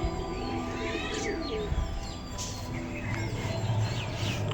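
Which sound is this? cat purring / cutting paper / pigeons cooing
pigeons cooing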